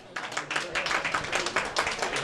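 Comedy club audience breaking into a round of applause, a dense wash of many hands clapping close and loud for the whole stretch, with a few voices mixed into the crowd noise.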